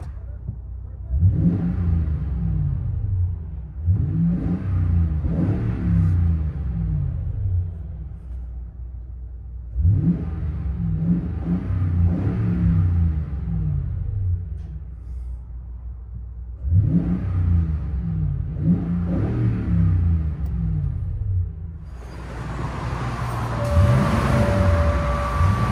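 A 2021 Toyota Tundra TRD 5.7L V8 with an X-pipe and Borla Pro XS exhaust, heard from inside the cab, rasping and rumbling through repeated revs and pulls, with a rising whine near the end.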